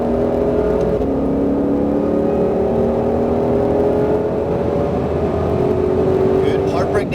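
Mustang Shelby GT500 engine on a race track, rising in pitch as the car accelerates, a loud continuous drone with steadily climbing harmonics that carries through the whole stretch.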